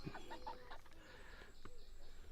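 Chickens in a chicken tractor on grass cluck softly nearby, a few short clucks early on, against a quiet, faint background.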